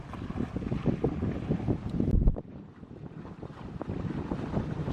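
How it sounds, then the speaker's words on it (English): Sailboat under sail with its engine off, entering Port McNeill from Queen Charlotte Strait at sunrise, giving steady broadband wind and water rush against the microphone, with a brief louder gust near the middle and no talk. "just turned the engine off again, and we're sailing into Port McNeill."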